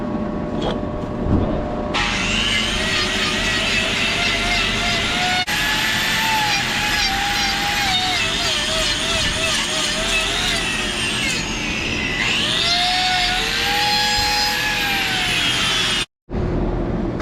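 An electric grinder trims a dairy cow's hooves on a dairy farm, a loud, continuous whirring whine with shifting pitch that runs steadily for most of the clip before stopping abruptly near the end.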